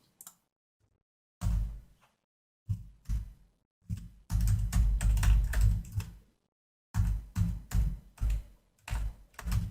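Bursts of computer keyboard typing, close and fairly loud, come in short clustered runs of clicks separated by silent pauses, with one longer continuous flurry in the middle.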